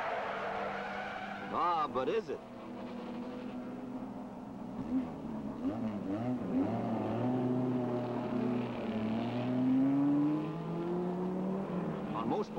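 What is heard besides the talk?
race cars speeding around Mosport circuit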